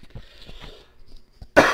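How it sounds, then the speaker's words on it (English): A single loud, harsh cough erupts close to the microphone after a quiet stretch of faint, low murmuring, during a session playing an open-world video game. "Just had a little bit of coughing fit"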